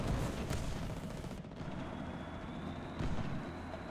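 Gunfire from a War Thunder tank battle: a few heavy, booming shots over a steady rumble of engines, with a sharp report near the start and another burst toward the end.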